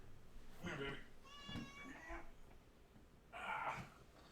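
A pet cat named Miss Bitty Jean Green meows several times in a short, close run: a drawn-out tonal call in the middle, then a rougher one near the end, over a steady low room hum.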